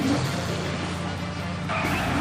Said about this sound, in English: The traffic in the background's nice.